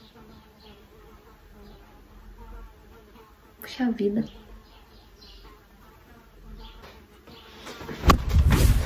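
A housefly buzzes faintly around a person indoors, its thin drone audible under a few spoken words, followed by a louder burst of noise near the end.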